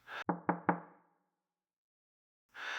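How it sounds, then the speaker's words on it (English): Three sharp, deliberate knocks on a door land in quick succession and ring out briefly before silence, a stark horror-story effect heard up close and alone. "startled awake by a series of knocks"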